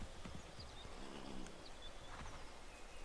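Horse hooves clopping at a steady pace in Assassin's Creed III, with a faint whinny rising above the quiet, distant footfalls.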